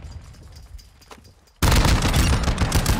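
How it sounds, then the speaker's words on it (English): Heavy gunfire from a full-auto shotgun in a first-person shooter game, opening quiet with faint distant pops, then cutting in suddenly to loud, continuous, close shooting and blasts. "He's using that brand new shotgun"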